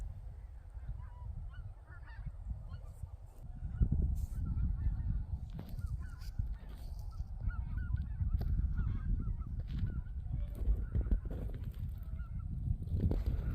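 A skein of geese honks continuously as it flies over a garlic plot, many overlapping calls ringing out near and fairly loud for the whole stretch, with no talk.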